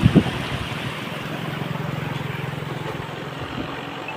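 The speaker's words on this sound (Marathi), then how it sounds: "पाण्याचा आवाज बघा कसा येतो" Rushing river water floods around a bridge near a temple after Guru Purnima, a steady broadband wash with swirling eddies, continuous and fairly close, with a brief thump at the start and no talking.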